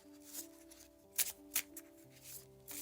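A plastic Rider-Waite-Smith tarot deck is shuffled in a few quick, soft riffling bursts, close and fairly quiet, with brief pauses between them.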